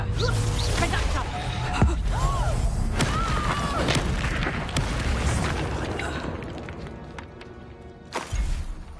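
Spell explosions in Hogwarts Legacy battle: repeated booming blasts and crashes with magical whooshes, loud and busy, with a voice shouting spell names over them.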